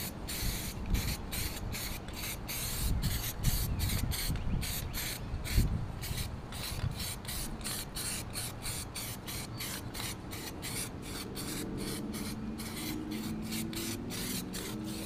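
Aerosol spray can hissing wrinkle paint onto a 1956 Cooper Cyclo-Mo-18 mower deck, a steady close spray broken into short rhythmic bursts, with a few faint knocks underneath and no talking.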